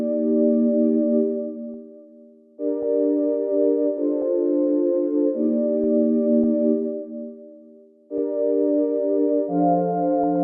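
Sine synth pad with chorus, retro noise and distortion, playing smooth sustained chords that change every few seconds, with soft swells and brief dips, clean and alone with no voices.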